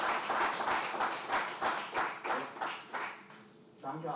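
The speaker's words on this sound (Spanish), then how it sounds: "Yo creo que se han merecido un gran aplauso." Applause from a forum audience thanking the panel speakers at an industrial policy event, a steady burst of clapping with rhythmic peaks that fades out toward the end as a voice starts.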